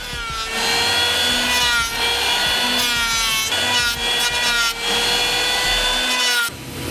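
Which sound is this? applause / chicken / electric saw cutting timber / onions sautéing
electric saw cutting timber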